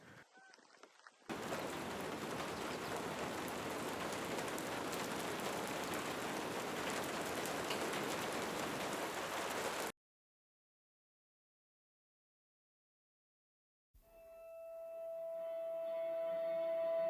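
Heavy rain pouring down steadily on a California ranch during a winter storm, a dense, loud hiss lasting several seconds before cutting to silence, then a fainter rain-and-tone passage returning.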